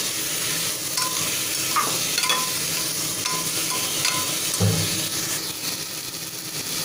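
Chicken sautéing in a pan for a stew, a steady close sizzle with occasional scraping and stirring knocks from a utensil against the cookware.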